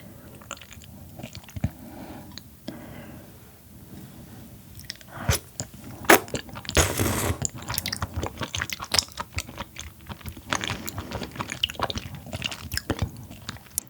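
Close, wet chewing and crunching of raw flatfish slices mixed with minced sea cucumber intestines, with repeated bites and squishy mastication growing louder and denser through the second half.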